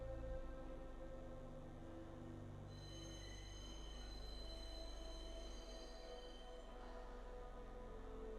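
In Star Citizen, a sci-fi train pulls into Tisa Spaceport with a steady low rumble and a layered mechanical whine that shifts in pitch partway through as it slows, and no voices are heard.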